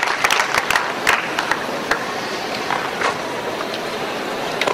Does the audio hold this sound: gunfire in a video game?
no